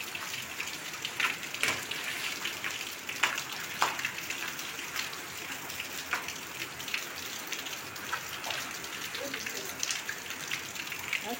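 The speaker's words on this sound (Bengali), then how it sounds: "আর বেশ জোরে বৃষ্টি শুরু হয়েছে" Rain coming down hard outdoors, a steady hiss of drops hitting surfaces with scattered sharper patters, moderately faint and continuous, with a voice now and then.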